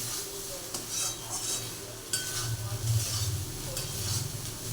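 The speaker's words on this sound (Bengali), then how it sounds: "পটলটাকে তলা থেকে আর একবার ভালো করে নিয়ে দিলাম" A spatula stirs pointed gourd paste in a wok, making soft sizzling with scraping and metallic clinks against the pan, close by and with no one talking.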